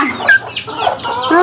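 Hens cluck and chatter close by in a short burst, with a couple of brief higher calls cutting through the steady farmyard fowl noise.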